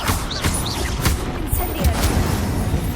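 Incendio and Confringo spell blasts fired in rapid succession in the Hogwarts Legacy video game, a dense run of loud bursts and booms over a rumbling battle din, with a voice calling out between them.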